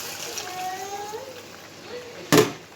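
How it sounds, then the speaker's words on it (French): Water poured into a cooking pot for a beef and potato stew, a soft running trickle with a sharp splash near the end, faint voices murmuring underneath. "Je verse mon eau."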